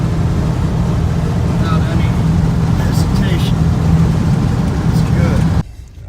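A car engine fitted with a new Holley carburetor runs steadily through a gear change with a low, even rumble up close, then cuts off abruptly near the end.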